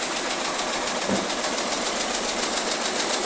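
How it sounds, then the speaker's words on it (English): An industrial quilting machine sews mattress layers together with a steady, loud mechanical hum and rapid rhythmic clatter, running continuously without pause. "That is a serious quilting machine right there."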